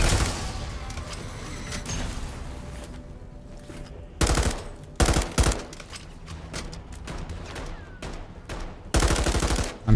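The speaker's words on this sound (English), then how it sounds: "I'm shooting at my own team's hellhounds." Gunfire in Modern Warfare 3 Zombies, shooting at hellhounds: several loud, close bursts of rapid automatic fire separated by gaps of quieter game noise and scattered shots.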